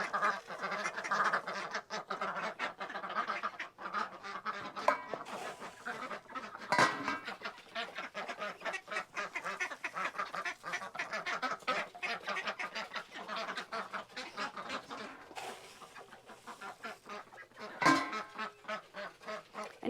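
Ducks in a backyard coop area with chickens quack and honk repeatedly in a busy, overlapping flock chorus, fairly close and continuous throughout, with no one talking over them.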